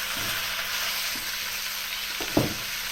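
Chicken for achari (pickle) chicken fries in a pan with a steady broadband sizzle, while a utensil stirs it with a few soft scrapes and one sharper knock.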